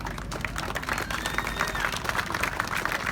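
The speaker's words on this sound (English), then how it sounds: "A round of applause for this great group." Dense applause and scattered cheers from spectators for the Can-Am podium group at Road America, steady crowd clapping throughout with no clear break.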